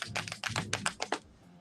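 Rapid clicking of long fingernails striking a computer keyboard, a quick run of crisp taps close up that trails off after about a second.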